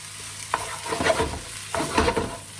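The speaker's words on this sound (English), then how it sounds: "you want to stir this all through. You can see all this, the rice is separating." Fried rice with sesame oil stirred in a hot pan, a steady sizzle punctuated by two scraping stirring strokes, close and fairly loud with no talking.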